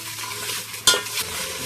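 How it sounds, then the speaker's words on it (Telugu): Red chillies roasting in a pan over medium flame give a close, continuous dry sizzle, with a brief scrape from stirring partway through. "మీడియం ఫ్లేమ్లో కలుపుతూ వేయించుకోవాలి."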